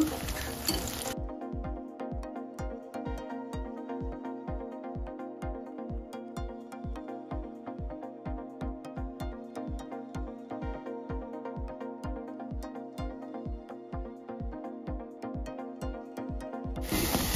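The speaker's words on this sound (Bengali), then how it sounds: "তেলটা গরম হয়ে গিয়েছে। এখানে পেঁয়াজের বড়াগুলো দিয়ে দেব।" Onion fritters fry in hot oil with a steady, loud sizzle, a continuous bubbling hiss and regular rhythmic clicks running throughout.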